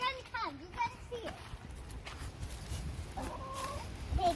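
Chickens clucking and squawking in a chicken coop, with children talking and playing nearby.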